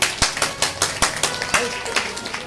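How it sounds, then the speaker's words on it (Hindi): An audience at a Hindu devotional gathering during a Bhagwat saptah discourse in Delhi claps in a steady, rhythmic burst, with sharp individual claps standing out over dense applause throughout. "आप इनके लिए जोरदार ताली बजाओ"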